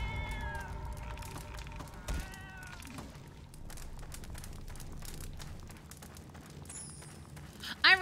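A pet cat meows in the video game FATE, with several short meows near the start over steady game background sound, followed by a bright chime toward the end.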